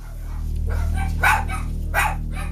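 Dogs and young puppies kept in filthy, squalid conditions inside a house bark in a few short, sharp bursts over a steady low hum, the barks moderately close.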